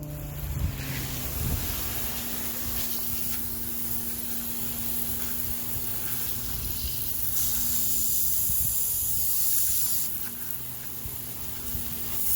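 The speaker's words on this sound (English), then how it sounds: "let me turn on my hose here and I'll show you what that does. Turn the pump on." A garden hose sprays water with its pump running, a steady broad hiss with a faint motor hum underneath, continuous and close throughout.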